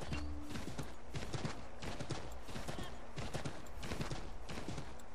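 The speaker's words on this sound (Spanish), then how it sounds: "vamos a llamar al caballo" Hoofbeats of a horse galloping in Assassin's Creed III, a steady rapid clip-clop rhythm running throughout at moderate volume with no talk over it.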